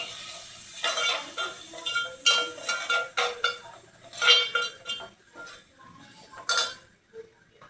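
Salt and turmeric stirred into a sautéing pan, with repeated metallic scrapes and clinks of a spoon against the pan over a faint sizzle, uneven and close, no talking.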